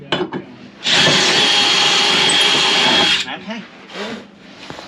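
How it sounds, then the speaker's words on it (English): A power drill with a larger bit whirs loudly and steadily for a couple of seconds as it bores through material, with brief clattering and handling noises before and after. "I drilled them out with the smaller, and now I'm doing the bigger one. The bigger drill bit."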